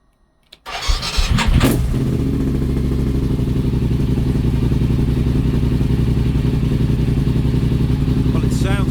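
A BMW F850GS motorcycle engine, just repaired after a throttle fault, cranks and catches, then settles into a loud, steady idle up close, with a brief blip near the end.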